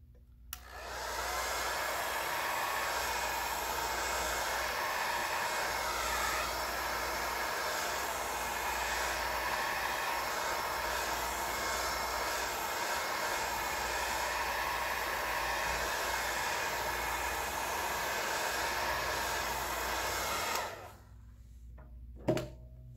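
A hair dryer blows steadily and loudly for about twenty seconds, drying paint on a Minion painting, then switches off abruptly, leaving a quiet room with a faint click near the end.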